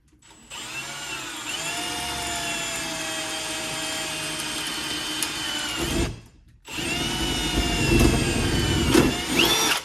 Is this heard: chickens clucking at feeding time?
no